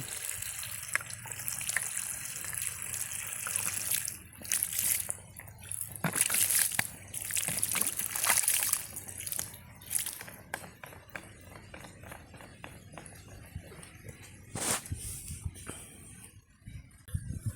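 Water gushing and splashing from the opened end of a farm sprinkler pipe as it flushes out silt and soil, a steady rushing flow with irregular bursts and spatters, close and fairly loud, with no talking.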